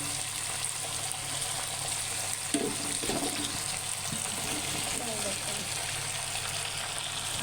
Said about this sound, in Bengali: এই তেল মশলাই আমি দিয়ে দেবো ফুলকপি আর নতুন আলু